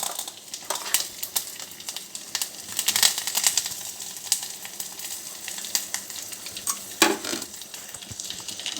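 Cumin, mustard seeds, garlic-coconut paste and curry leaves sizzle steadily in hot oil, a close, continuous crackle with a few sharper bursts and spits along the way.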